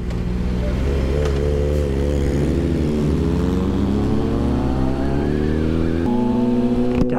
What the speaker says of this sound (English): bikes with shorty exhausts are freaking amazing.